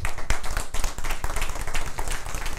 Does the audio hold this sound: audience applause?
yes